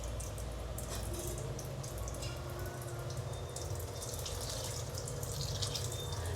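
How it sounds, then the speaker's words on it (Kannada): Water poured into a pot of rice while making corn paneer pulao, a steady close trickling and splashing that runs continuously under a low background hum. "ಸೊ ಈಗ ನೀರು ಹಾಕೋಣ"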